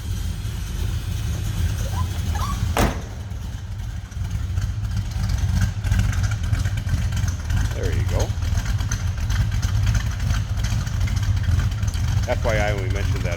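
A 1974 Dodge Dart engine idles steadily with a low, even rumble, heard from behind the car, while someone talks over it intermittently.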